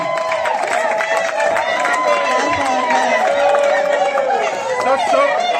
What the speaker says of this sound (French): Acclamons encore notre Seigneur.